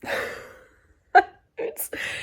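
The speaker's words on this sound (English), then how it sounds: "Like I'm yawning now" A woman's long, drawn-out yawn that fades away, followed by short breathy exhales and a soft voiced sound, close and alone.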